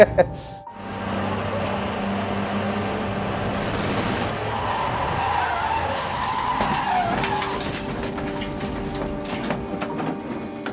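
A Canadian touring race car skids off track at turn 2, a long loud tire scrub and engine roar with a tonal whine rising midway, then the engine note settling back near the end.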